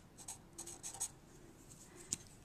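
A pen writes a guest's name on a small punched paper oval, giving short close scratchy strokes in a few quick bursts and then a final flick, quiet and alone.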